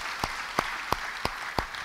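Five sharp claps ring out at steady intervals over a low hall murmur, a sparse, scattered round of applause from a church congregation after a pastor's call to clap.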